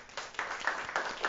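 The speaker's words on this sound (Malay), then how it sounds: "Bagi tepukan untuk Shalini." A classroom of primary pupils gives a short burst of applause for a classmate, several rounds of light, uneven clapping rising and falling at moderate distance with no talk over it.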